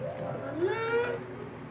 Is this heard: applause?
no